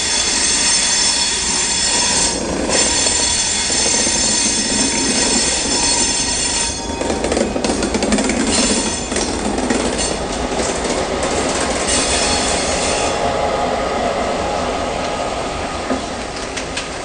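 Diesel locomotives 4201 and 4203 moving up along the tracks to join a passenger train, a steady loud rumble with squealing wheels and clickety-clack of rail joints, nearby and without talk.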